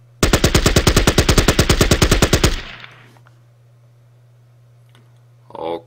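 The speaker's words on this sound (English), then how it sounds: "we do some more suppressive fire" Rapid burst of suppressive automatic gunfire in the turn-based war game Battle Academy, about two seconds of loud, evenly spaced shots cutting off sharply, then a low steady hum and a short click near the end.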